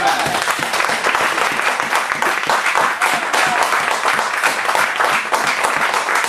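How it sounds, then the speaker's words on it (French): A church congregation applauds loudly and continuously to acclaim the Lord, dense steady clapping from many hands filling the room with no break. "Au nom de Jésus-Christ, acclame très fort le Seigneur."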